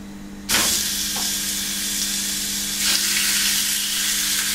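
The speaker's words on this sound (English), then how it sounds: "Next, throw them onto a very hot pan or griddle." Sous vide meat hits a very hot pan or griddle with a sudden loud sizzle that settles into steady, close frying hiss, swelling again briefly as more pieces go in.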